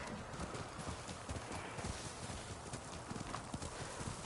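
Horse hooves in the video game Ghost of Tsushima give a quiet, irregular clip-clop of steps. The hoofbeats sound close but faint over a soft background.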